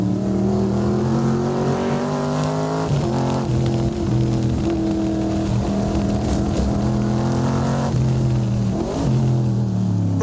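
A Cobra sports car accelerates on a race track, its loud engine climbing steadily through the revs with a brief dip at each gear change, several shifts in sequence, heard close and continuous without voices.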